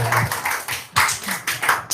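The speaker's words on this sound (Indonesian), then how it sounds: "Tepuk tangan dulu dong." An audience at a talk claps in a few uneven bursts, fairly faint and scattered, with pauses between rounds.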